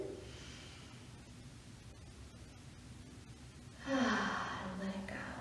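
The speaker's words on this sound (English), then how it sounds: "let's take a deep breath in and let it go" A slow, deep breath in followed by a long audible exhale, close and soft over a low hiss, with the release swelling near the end during a guided relaxation exercise.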